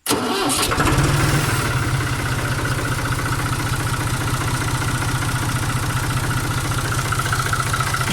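A diesel engine cranks briefly on the starter, then catches and settles into a loud, steady, rhythmic idle that runs close up to the end.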